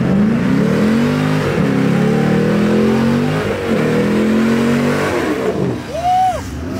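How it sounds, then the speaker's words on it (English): A modified Chevrolet Camaro Z28 muscle car roars through a loud, sustained burnout as it leaves a car meet, its engine revving and rising in pitch, close by. "Z28 doing burnouts."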